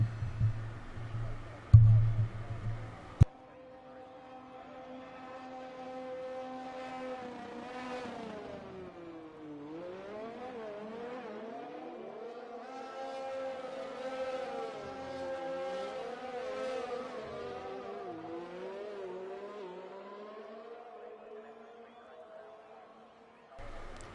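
Formula race cars in an F1 racing video game on the Azerbaijan Grand Prix circuit, engines whining and shifting pitch as they accelerate and lift through a lap, steady and moderately loud after a brief opening thump, no talking.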